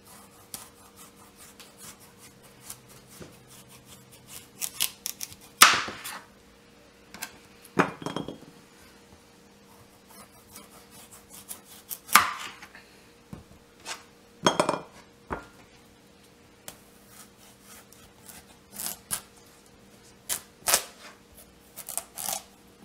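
A knife cutting through a hard acorn squash on a board, several separate sharp crunching chops and thuds spaced out over a quiet kitchen background, close and without talk.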